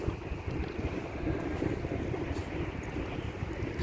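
Strong wind buffeting a small fishing boat at sea, a constant rough roar with low rumble and hiss, steady and close throughout with no voices.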